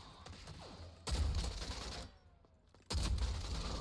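Gunfire from the shooter video game Rogue Company, two heavy booming bursts a couple of seconds apart with quieter mechanical sounds between, fairly faint overall.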